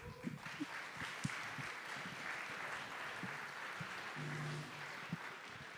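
Audience applause, a steady wash of clapping from a crowd at a pitch event, fairly faint and even throughout with no talking over it.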